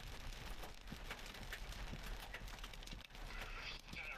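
Rain pours steadily on a storm chaser's vehicle in the core of a severe storm, a dense continuous hiss with scattered sharper drops, close and fairly loud, with a voice talking faintly underneath.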